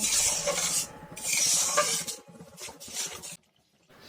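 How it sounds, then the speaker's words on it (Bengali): Katla fish curry masala with yogurt, sugar and salt is stirred in a pan, giving close, steady scraping and rubbing strokes in bursts that stop abruptly near the end, with no talking. "পুরোটা খুব ভালোভাবে আবারও মিশিয়ে নেব।"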